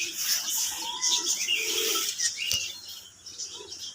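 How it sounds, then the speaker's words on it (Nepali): Bulbul calls ring out repeatedly among other bird chirps in an outdoor rainy holiday setting, moderately loud and close, with no talking. "यो त जुरेली होइन र"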